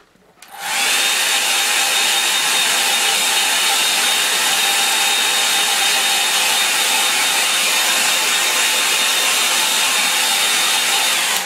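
A hair dryer switches on and blows steadily at close range to dry a watercolour sky painting, a loud continuous whooshing roar that fills the whole stretch with no talking.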